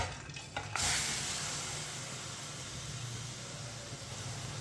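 Goat meat hitting hot oil in a karahi for Shinwari karahi, a sudden loud broadband sizzle bursting in under a second and then holding as a steady, dense frying hiss with a low stove rumble beneath, no voices.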